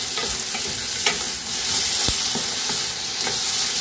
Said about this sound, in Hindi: शिमला मिर्च को हमने दो मिनट तक तेज आंच पे सौटे कर लिया है।